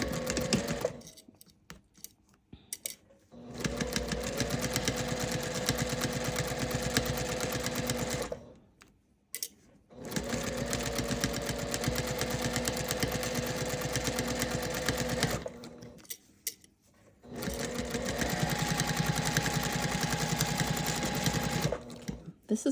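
Sewing machine stitching a quilted gift bag, running in three long steady bursts of rapid mechanical whirring separated by short pauses.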